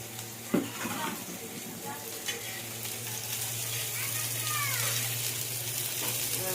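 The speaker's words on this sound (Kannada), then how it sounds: "ಅದಕ್ಕೆ ಎಣ್ಣೆ ಹಚ್ಕೊಂಡು ಹುರಿಬೇಕ್ರಿ" Onion and tomato fry in oil while being stirred, giving a steady close sizzle with occasional scraping strokes throughout.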